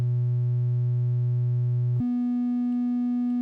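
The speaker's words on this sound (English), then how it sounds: "change the range of this oscillator so it's playing even faster" Moog Model D oscillator with its range switched up: a steady, loud sustained tone that jumps abruptly to a higher pitch midway, then holds, with no other sounds.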